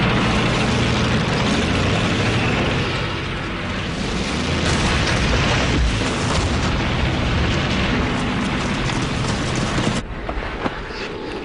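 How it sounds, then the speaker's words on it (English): Soviet Katyusha rocket launchers firing during the Battle of Stalingrad, a dense, roaring barrage of whooshing launches and rumbling blasts that sustains loudly for about ten seconds before easing into a quieter background. "with the rocket launchers they call Stalin's organs"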